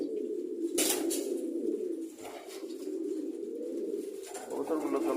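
Pet pigeons in a loft coo in soft, repeated low murmurs, fairly close and continuous, with a brief flutter or scuffle near the start.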